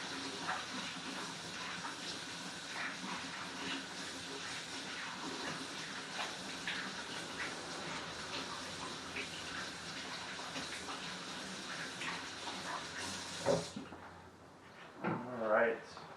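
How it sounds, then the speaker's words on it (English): A kitchen tap runs steadily while hands are washed before cooking spaghetti, a soft continuous hiss of water that stops near the end and is followed by a couple of faint clunks, and someone speaks quietly during it. "we always want to wash our hands before we kind of get started"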